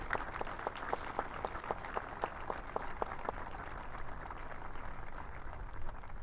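Students clap at an outdoor baseball and softball field dedication ceremony at Har-Ber High School, a sustained wash of applause from a crowd with a few sharp, rhythmic claps standing out near the start.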